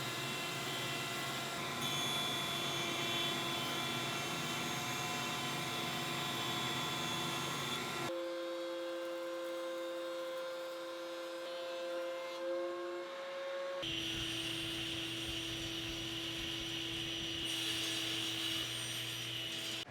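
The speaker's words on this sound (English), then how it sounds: "I'm going to use my joiner to flatten one face of all the legs" A woodworking jointer flattening the faces of wooden table legs, a loud continuous whirring hum with passes of the cutterhead shifting in tone, close and steady throughout with no talk.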